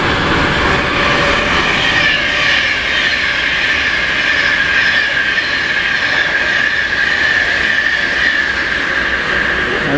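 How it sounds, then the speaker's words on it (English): Pendolino train rushing past close by, a loud, sustained roar of wheels and rushing air with a high metallic squeal running through it for the whole stretch. "And that's another Pendolino."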